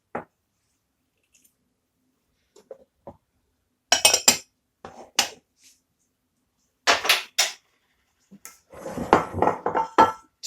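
A dish or baking tin clinks and knocks in short, scattered bursts while being greased with butter for no-knead bread, with sharp metallic taps spread across the clip and quiet gaps between.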